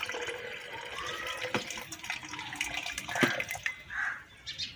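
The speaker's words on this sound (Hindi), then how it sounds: "हम इसका पानी निकाल देंगे।" Hot water drains off boiled fishing hook bait from a cooking pot, a soft irregular splashing and trickling pour with a few clinks, fairly quiet and close.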